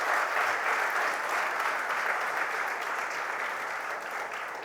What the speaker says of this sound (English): let us applaud him once again for his massive victory which he has got in the election